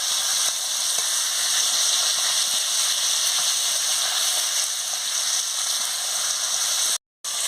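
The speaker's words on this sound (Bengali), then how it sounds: "আমি এবার মাছটা দিয়ে দিচ্ছি" Fish sizzling in hot oil in a wok, a loud continuous hiss and crackle close up that holds steady, then cuts out abruptly for a moment near the end.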